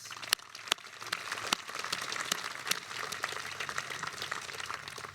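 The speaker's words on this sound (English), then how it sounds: "They deserve your applause." Applause rises for teachers and coaches during a Class of 2022 commencement ceremony, a steady, fairly soft patter of many hands with a few sharper isolated claps near the start.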